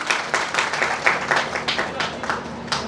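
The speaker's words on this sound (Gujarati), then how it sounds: "એમના માટે પણ જોરદાર તાળીઓ" An audience at a business summit and awards ceremony claps in honour of a guest, a moderate patter of applause with rhythmic bursts under an announcer's voice.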